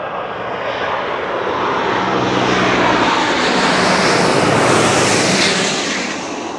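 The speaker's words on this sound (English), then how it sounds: "It looks like it's barely moving, this Airbus A350 from Vancouver in Canada." An Airbus A350 airliner flies overhead, a loud broadband jet roar that swells steadily, peaks and slowly fades, with no voices.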